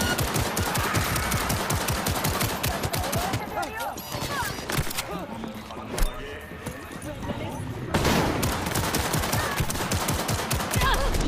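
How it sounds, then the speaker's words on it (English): Gunfight in Cyberpunk 2077 with rapid bursts of automatic gunfire, sharp repeated shots crackling loudly, easing briefly in the middle before resuming in dense volleys, with a voice speaking over parts of it. "let's just get in a gunfight with my new gun"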